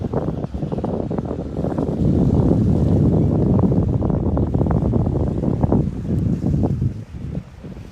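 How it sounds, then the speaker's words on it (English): Strong wind on a sailboat near Petite St. Vincent buffets the microphone with a loud, continuous roar and gusty rumbling, with faint water sounds underneath. "it's going to be really windy"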